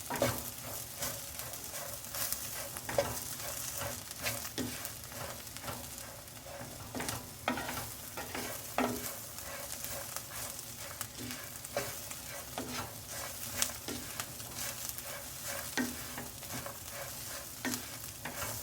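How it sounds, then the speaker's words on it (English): Spices sizzle and crackle steadily in a hot pan for a bitter gourd and chickpea lentil dal, with frequent scraping stirs and small pops throughout; no voices. "Let's fry our spices."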